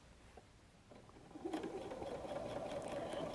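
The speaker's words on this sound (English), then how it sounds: "we'll sew down this side here" A sewing machine stitches a seam on a messenger bag, starting quietly and then settling into a steady, quick whirring hum that keeps going close by.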